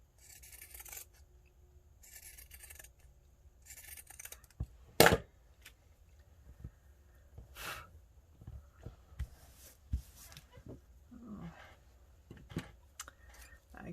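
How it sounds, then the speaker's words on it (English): Scissors snip through heavy velvet fabric in a quiet room, with a few soft bursts of cutting and scattered light rustles, taps and handling noises, faint and close. "I can't cut any more straighter with these than I can with any other kind of scissors"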